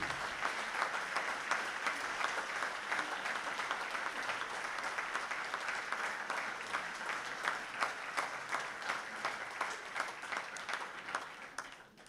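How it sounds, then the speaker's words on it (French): Steady, sustained applause fills a political assembly hall, many hands clapping evenly at a moderate, somewhat distant level for about twelve seconds before tapering off. "Je vous demande de l'applaudir"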